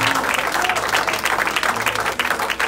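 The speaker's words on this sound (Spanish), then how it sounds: "¿Cuántos pueden darle un aplauso al Señor?" A church congregation claps for the Lord in steady, continuous applause, with a preacher's voice and a faint low hum underneath throughout.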